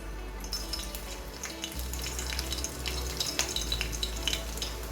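Garlic sizzles in hot oil in a pan, a soft, steady crackle with faint bubbling and occasional pops, fairly quiet and close.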